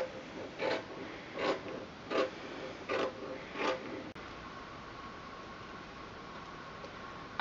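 Scissors cut through folded fabric along a marked line for hoodie spikes, giving five evenly spaced rasping snips, close and fairly quiet, followed by a few seconds of faint room hiss.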